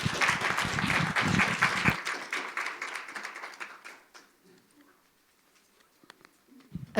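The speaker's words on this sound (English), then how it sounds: "maybe one final round of applause" Lecture audience giving a final round of applause, loud dense clapping for about two seconds that thins into scattered claps and fades to near silence, with a few faint sounds near the end.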